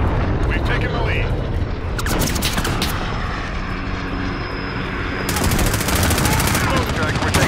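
Loud, rapid machine-gun bursts from a military video game fire in repeated volleys over a steady roar of aircraft engines, with dense combat noise throughout.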